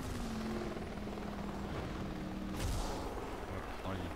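Helicopter rotor whir in the driving game Driver San Francisco, a steady loud drone throughout with a brief burst partway through.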